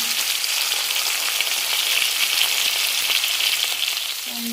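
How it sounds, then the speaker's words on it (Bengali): Pumpkin and ridge gourd slices fry in hot oil, giving a steady, close hiss of sizzling with faint crackles throughout and no talking. "দেখো আবার কুমড়ো আর কাঁকড়েল ভাজা।"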